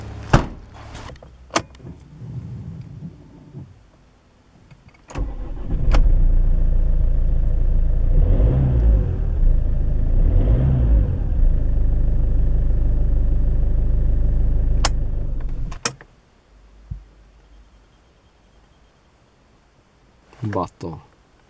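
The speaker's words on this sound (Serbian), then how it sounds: "Evo, krenuli smo u test vožnju čuvene Mazde 6." A 2006 first-generation Mazda 6 with a 2.0 turbo-diesel starts with a short crank and settles into a steady, loud idle for about ten seconds, then cuts off, with door clunks before and after.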